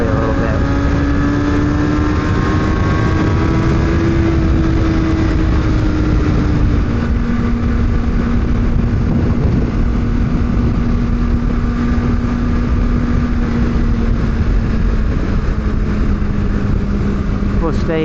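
A car cruising on a freeway gives a loud, steady engine and road drone from inside the cabin, its pitch rising a little as it speeds up and then holding steady.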